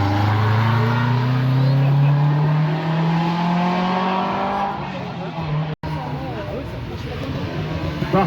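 A 1982 Porsche 944 climbing a historic hill-climb course, its engine note loud and near, rising steadily in pitch under acceleration and then receding and blurring into a fainter, rougher drone as it pulls away, with a voice heard over it.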